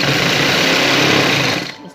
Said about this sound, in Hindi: इस तरीके से सिलाई लगाएंगे और प्लास्टिक को आगे खींचेंगे